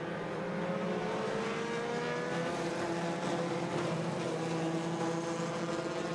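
Stock cars roar into turn one at Irwindale Speedway, a dense, continuous engine blare from a pack of cars, heard from a distance and fairly faint.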